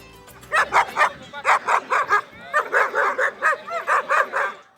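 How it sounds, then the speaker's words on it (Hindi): Dogs of many breeds at an outdoor dog show, including small Maltese, bark loudly and repeatedly at close range in quick bursts, with a few yips and whimpers between them. "DHA में सजा डॉग शो, 20 से जायद इकसाम के कुत्तों ने हुस्न के जलवे बिखेरे"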